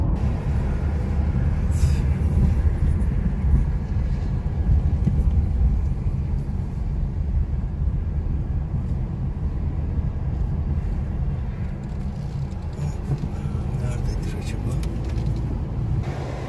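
A car driving a lap of the Charlotte Motor Speedway NASCAR oval, heard from inside as a steady, loud engine and road rumble with some faint talking underneath.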